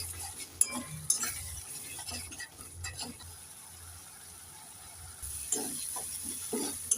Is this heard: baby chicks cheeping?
no